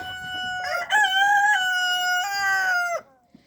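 A rooster crows once, loud and close, in a long sustained cock-a-doodle-doo that breaks off sharply, followed by a faint brief knock in otherwise quiet surroundings.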